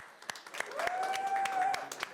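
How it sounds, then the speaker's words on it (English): A conference audience claps for a speaker, scattered individual hand claps over a soft background with a sustained tone running through the middle. "Round of applause, please, for our speaker."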